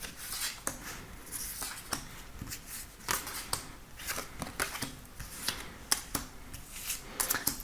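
Tarot cards being shuffled and handled before a reading, giving soft, irregular flicks and riffles, close and fairly quiet, with no talking.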